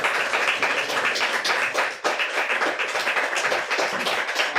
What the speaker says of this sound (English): round of applause for all our readers today tonight